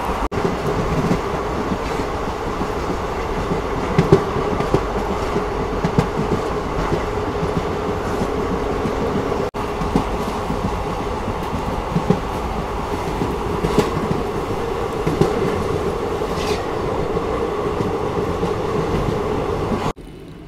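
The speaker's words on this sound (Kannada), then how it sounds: "ನಮ್ಮ ಟ್ರೈನ್ ಸದ್ಯಕ್ಕೆ ತಲುಪಿದೆ ಅಕ್ಕಿ ಹೆಬ್ಬಲ್ಲು ರೈಲ್ವೆ ಸ್ಟೇಷನ್ಗೆ" An unreserved passenger train from Shivamogga to Mysuru runs steadily, heard from inside the carriage as a constant rumble with rhythmic clickety-clack of the wheels over rail joints, without talk, dropping away at the very end.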